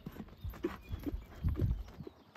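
A castrated purebred criollo horse's hooves clip-clop in an uneven walking rhythm of about a dozen soft, close hoof strikes. A faint background hiss runs under them.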